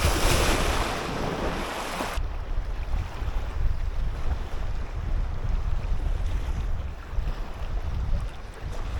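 Sea waves wash steadily onto the shore at a shorecasting fishing spot, a loud surging rush mixed with wind buffeting the microphone, with no voices.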